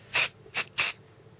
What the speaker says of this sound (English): short squirts. Now that is the name of the game with